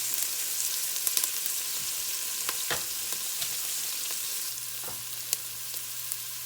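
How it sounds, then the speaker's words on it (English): Onions sauté in a pot for old-style Southern vegetable soup, giving a steady soft hiss of frying with a few faint clicks and taps of utensils along the way. "now we're going to let those onions just start sauteing just a few minutes"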